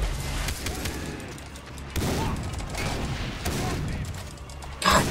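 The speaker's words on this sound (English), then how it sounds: "God damn the shotgun" Shotgun blasts in Far Cry 3 come as loud, heavy booms amid a dense fusillade of gunfire, with a strong blast near the middle and another sharp crack at the very end.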